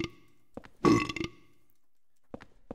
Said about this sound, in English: Your burping kind of grosses me out.